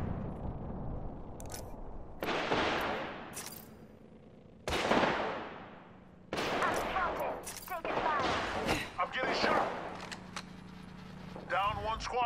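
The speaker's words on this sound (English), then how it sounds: "Taking fire, brothers. Shield up. Firing." Gunfire from the Apex Legends battle royale comes in several loud bursts and volleys spread across the stretch, with in-game voice callouts speaking between and over the shots.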